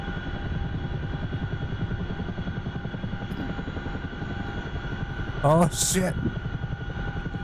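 A helicopter rotor in the DCS World combat flight game throbs steadily and loudly throughout, with a brief startled shout near the end.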